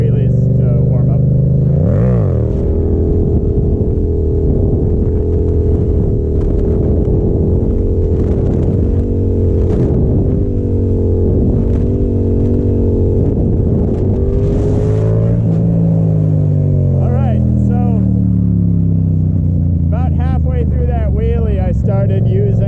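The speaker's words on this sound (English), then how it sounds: "So we're just gonna start out with some foot brake wheelies to warm up." Yamaha FZ-07 motorcycle engine revving hard and dropping repeatedly during foot brake wheelies, loud and close with wind rumble throughout and a rider's voice heard intermittently.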